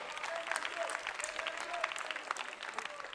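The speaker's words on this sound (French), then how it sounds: "Est-ce qu'on peut applaudir pour lui d'abord?" Audience at a Christmas 2020 show claps for a contestant, a fairly faint but continuous spread of many hands with scattered sharper claps and faint voices mixed in.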